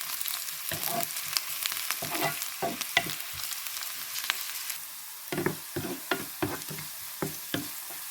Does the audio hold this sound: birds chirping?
no